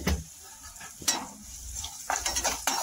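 Spices, turmeric and salt are stirred and fried in a pan for potato bhaji, with a low crackling sizzle under a few sharp spoon scrapes and knocks against the pan, close up and without speech.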